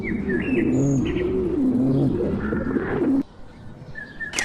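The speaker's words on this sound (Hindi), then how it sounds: "उस पीपल के दरख्त पर बहुत से कबूतर रहते थे।" Several pigeons coo in a soft, rolling rhythm among a peepal tree in a forest, with scattered bird chirps; the cooing is steady and close for about three seconds, then drops away, leaving quieter chirps.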